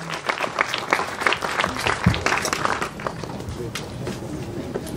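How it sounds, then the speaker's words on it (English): An audience claps to welcome dignitaries at a film masterclass event, a ragged round of applause with sharp individual claps close by and voices underneath. "Please give a round of applause and welcome them."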